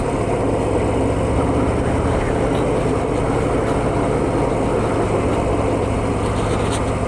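A Harley-Davidson Fat Boy with a 240 rear tyre rides at about 30 to 40 mph, its engine lost in a loud, unbroken wash of wind and road roar that never lets up.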